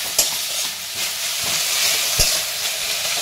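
Bottle gourd leaves frying in a pan as they are stirred, a close crackling sizzle broken by sharp scraping knocks of the spatula against the pan.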